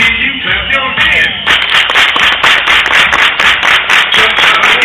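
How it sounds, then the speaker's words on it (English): A group clapping hands together in a steady, rhythmic beat during a line-dance routine, loud and fairly close, the claps repeating evenly throughout. "You clap your hands."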